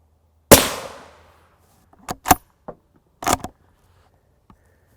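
Gunshots fired at a Safe Life Defense FRAS Level III ICW body armor plate: one loud sharp report with a ringing tail, followed by several quieter clanks and impacts, then a faint final tick.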